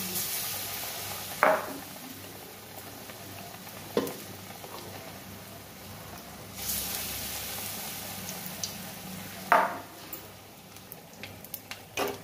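Eggplant fritters frying in hot oil give a steady close sizzle, broken by a few sharp utensil clinks and stirring scrapes.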